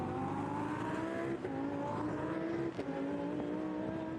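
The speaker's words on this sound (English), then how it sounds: "Listen to the engine. Beautiful noise as he puts the hammer down." Lamborghini Super Trofeo race car at Vallelunga circuit accelerating hard, engine note rising steadily through the gears with brief shift dips, loud and continuous throughout.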